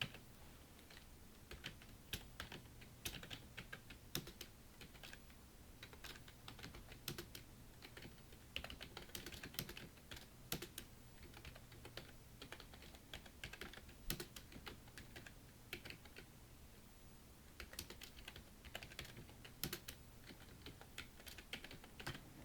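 Keys tapped steadily on a computer keyboard while text is entered into a PowerPoint document, with a continuous run of quiet, close clicks and occasional heavier strikes that sound like the space or enter key.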